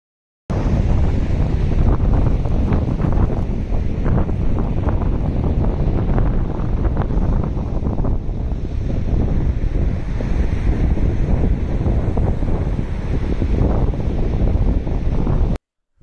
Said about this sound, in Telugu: ఆ గాలి శబ్దం వింటూ ఆ ఇసుక చేస్తున్న బీభత్సం చూశారు కదా